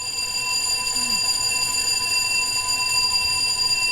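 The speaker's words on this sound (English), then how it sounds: "Sounds like we have a fire alarm" Fire alarm going off indoors, a steady piercing high-pitched tone held without a break for the whole stretch.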